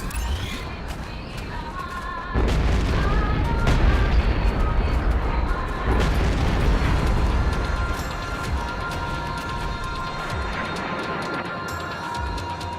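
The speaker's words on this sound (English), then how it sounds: "Here I'm demonstrating the strike suit's guns." Heavy guns on the strike suit firing in the space combat game Strike Suit Zero, with dense rapid booming bursts and explosions continuing loud under game music and effects.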